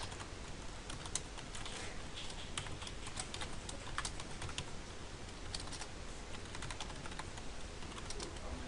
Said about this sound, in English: I have to type the whole thing again.